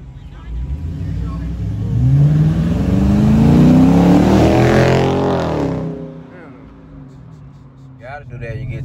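Dodge Charger RT car pulling out, the engine revving up with a rising pitch that swells loud and close over several seconds before fading, with a voice talking near the end.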